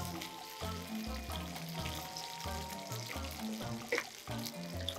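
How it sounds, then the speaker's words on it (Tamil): Honey garlic chicken wings fry in oil, a steady close sizzle and bubbling, overlaid with a rhythmic pattern of tonal notes and a brief clatter near the end. "இப்போ சிக்கன் பார்த்தீங்கன்னா அப்படியே ஆயிலில் வந்து ஃப்ரை ஆகிடுச்சு"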